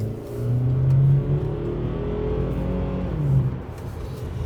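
Tuned BMW car accelerating, a smooth mid-pitched engine tone that rises and swells twice, close and fairly loud, with road and cabin noise underneath and no talking.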